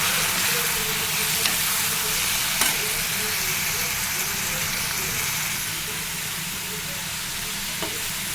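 Cooked broad beans fry in a pan for a curry, giving an even, continuous sizzle and hiss. Occasional faint scrapes of stirring sound over it, and a voice talks throughout.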